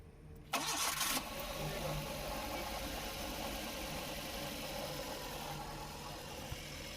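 A Maruti Eeco CNG van engine cranks and fires with a loud, short burst, then settles into a smooth, steady idle that holds close and even to the end.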